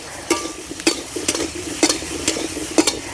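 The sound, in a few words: stirring elephant foot yam frying in pan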